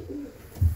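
A racing pigeon in a family loft gives a soft low coo, one short throaty call near the end of a brief, otherwise quiet moment.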